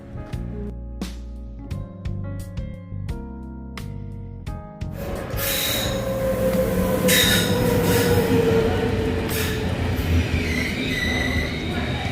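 A train rumbles along steadily with wheels squealing on the rails, a loud continuous roar following a stretch of knocking sounds and distant voices.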